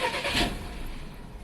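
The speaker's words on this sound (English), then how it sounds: "If I try to start, the car will still not start." A hot car engine cranks briefly with a loud starter whir that fades without catching, a short failed start attempt heard close up.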